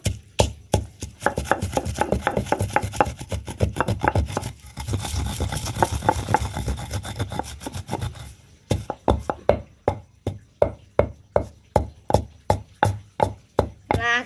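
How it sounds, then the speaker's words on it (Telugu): Dried red chillies pounded in a stone mortar for gongura chutney: rapid, loud, rhythmic thuds at first, then slower, evenly spaced heavy strikes, close by with no talk. "ఇప్పుడు ఎండుమిర్చి దంచుదాం చూడండి ఎండుమిర్చి అయితే దంచుతున్నాము"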